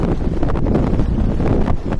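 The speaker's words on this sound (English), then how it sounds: "Right now it's just too windy." Strong wind buffets the microphone in a continuous gusty roar aboard a ship at sea, loud and close, with no voices.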